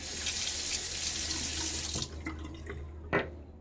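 Tap water runs steadily into a sink as a safety razor is rinsed during a wet shave, then the flow cuts off, leaving a few clinks and a short splash.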